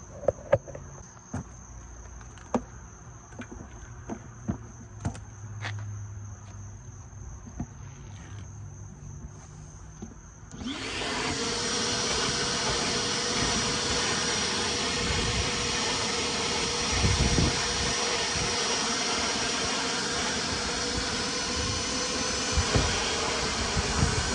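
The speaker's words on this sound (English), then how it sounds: "I'm gonna vacuum out the trunk" After several seconds of quiet ticks and a faint high whine, a vacuum cleaner switches on in a car trunk and keeps running with a loud, close, steady roar.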